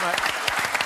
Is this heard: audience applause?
yes